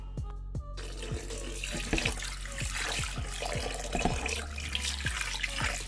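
Tap water runs steadily into a sink while raw king prawns are washed by hand, a close, continuous splashing stream broken by many small drips and plops.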